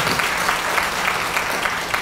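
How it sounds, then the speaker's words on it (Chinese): Attendees at a Taiwan Visitors Association anniversary gathering applaud in a dense, even wash of clapping that fills the whole moment. "我们是不是以最热烈的掌声感谢菊兰姐？"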